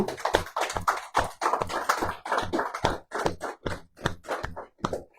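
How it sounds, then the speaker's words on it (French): A church congregation applauds in rhythmic, separate clusters of claps, mid-distance and moderately loud, with no talk over them. "Nous applaudissons la parole de Dieu"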